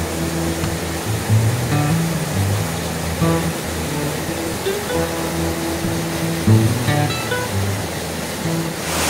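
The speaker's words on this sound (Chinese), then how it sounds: "我到了特富野蓝沙坝瀑布，哇，你看水超级澎湃的啊" Lanshaba waterfall on the Tefuye trail gushes in a steady, full roar of rushing water, broad and constant throughout with faint tonal sounds mixed in.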